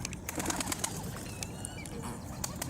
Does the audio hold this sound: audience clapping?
no